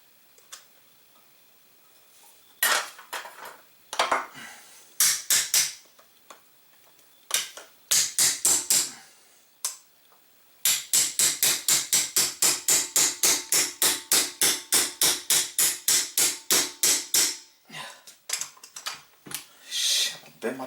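Pliers click and scrape against a corroded battery stuck inside a night vision scope, scattered sharp ticks giving way to a long, rapid, regular burst of clicking, then a few more irregular clicks, close and crisp.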